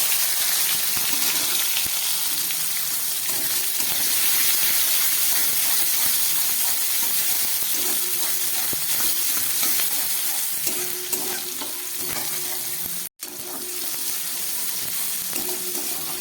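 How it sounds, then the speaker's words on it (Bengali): Chopped tomato and onion frying in oil in a pan, a loud continuous sizzle and hiss with occasional stirring scrapes, close up and without talk. "টমেটো আর পেঁয়াজটা ভাজা হয়ে গেছে।"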